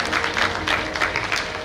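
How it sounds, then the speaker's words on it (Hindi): Loud, dense applause from an audience at a free mass wedding festival for a guru, honouring Dr. Jagdish Shastri, with continuous close clapping throughout the short burst. "जोरदार ताली की सेवा हो रहा है"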